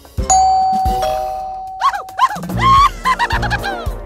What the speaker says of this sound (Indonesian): Kita akan bunyikan bel dan alihkan perhatiannya.